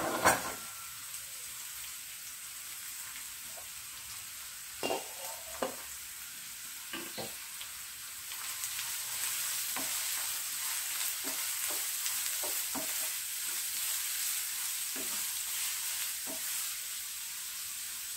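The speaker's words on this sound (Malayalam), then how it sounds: "ഒത്തിരി വെളിച്ചെണ്ണ, കാരണം സവാള കൂടുതൽ വേണം, അത് വഴറ്റിയെടുക്കുകയും ചെയ്യണം നന്നായിട്ട്" Onions sautéing in plenty of coconut oil for an egg roast, a soft continuous sizzle with repeated scraping stirs of a spatula and occasional knocks against the pan, close and without voices.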